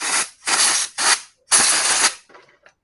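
Cleaner sprayed onto parts of a gasoline-engine water pump during servicing: four short, close hissing bursts, the last one longest, followed by a few faint clicks.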